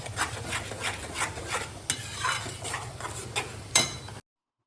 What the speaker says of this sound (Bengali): আর আমার বেরেস্তা ফ্রাই হচ্ছে।